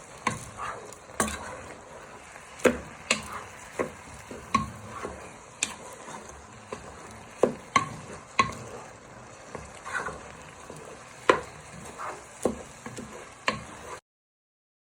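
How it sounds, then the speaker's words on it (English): Risotto rice gets stirred in a frying pan, making repeated scraping and ticking strokes in an irregular rhythm over a soft sizzle. The strokes are close and moderately loud, and the sound stops abruptly at the end. "Next step is to add your risotto rice. I'm going to give it a little bit of a stir."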